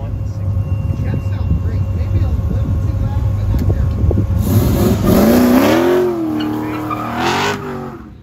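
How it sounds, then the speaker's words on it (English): Supercharged street machine car at a Goodguys autocross in Scottsdale, idling then revving hard with a wavering, climbing engine note and supercharger whine, under talk. "that supercharger all wound up"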